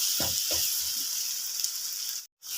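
Tomatoes frying into gravy with minced meat and bitter gourd in a Punjabi-style pan: a steady, close sizzle with a few soft stirring knocks early on and a brief dropout near the end.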